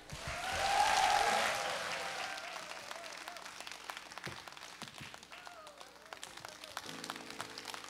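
Audience applause in a Korean TV singing contest studio, loud broadband clapping swelling in the first two seconds and then fading away, with music beginning to come in near the end.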